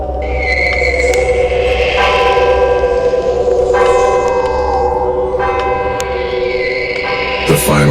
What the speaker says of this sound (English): The final church bell chimed.